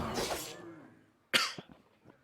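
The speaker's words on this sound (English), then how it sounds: "Pardon the coughs." Close, dry coughing comes in two bursts, a rough fit first and then a sharp cough with short follow-ups after a brief quiet gap.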